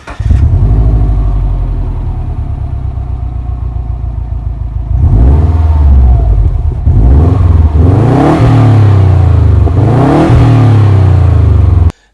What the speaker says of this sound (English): the first modification I did on it was install a catback exhaust from X-Force.